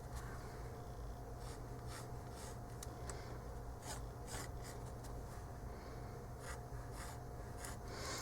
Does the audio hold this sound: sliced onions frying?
no